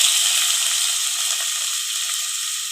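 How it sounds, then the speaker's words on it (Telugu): Finely chopped onions fry in about three spoons of hot oil for a brinjal and potato curry, a steady, bright, hissing sizzle that eases slightly as it goes, close up and alone. "ఆయిల్ వేడైంది. 2 ఉల్లిపాయలు సన్నగా తరిగి పెట్టి వేస్తున్నాను."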